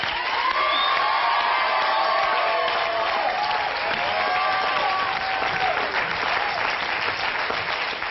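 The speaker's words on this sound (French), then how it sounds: "On peut l'applaudir très fort." An audience applauds loudly and steadily throughout, a dense wash of clapping with some cheering and whoops mixed in.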